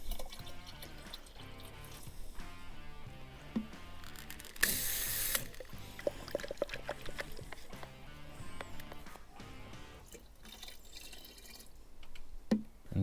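Humic acid liquid is poured into a backpack sprayer, making irregular splashing, trickling and dripping close by, with a brief burst of louder rushing liquid and some clunks of handling.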